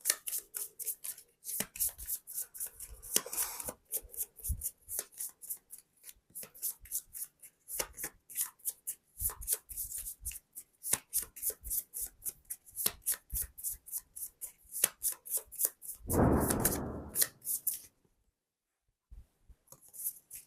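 Tarot cards shuffled by hand in a steady run of crisp riffling flicks, close and fairly quiet, with a denser burst of shuffling near the end before a brief pause and a few final taps.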